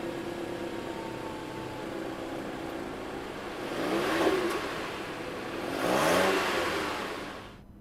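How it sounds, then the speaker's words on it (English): Standard inline-four engine of an all-wheel-drive 2016 Mitsubishi Lancer revs in two fairly faint swells, rising and falling, over a low steady hum with no talking. "And the engine sound, it's a standard inline four"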